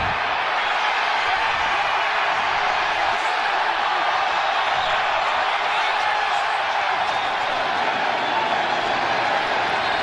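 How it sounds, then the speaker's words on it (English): Eagles fans at FedEx Field fill a football stadium with a dense, steady roar of cheering, distant and continuous, with a commentator speaking over it. "You heard the crowd going crazy. The Eagle fans here at FedEx Field, they saw the score update on the Bears"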